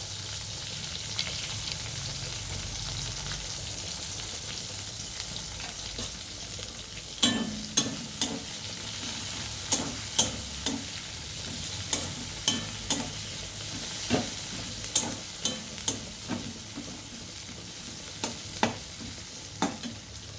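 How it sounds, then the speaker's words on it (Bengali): Chopped onions sizzling in hot oil in a pan, a continuous soft frying hiss with a spatula scraping and stirring in repeated sharp strokes from the middle onward, close and steady. "এবার দিয়ে দিচ্ছি কেটে রাখা পেঁয়াজ"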